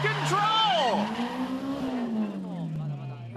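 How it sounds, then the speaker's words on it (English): Drift car in a D1 street-legal round at Ebisu circuit, its engine revving loud and high alongside screeching tires as it hits the wall with its rear and spins out, with an excited commentator talking over it. "He slams his rear into the wall and spins out of control!"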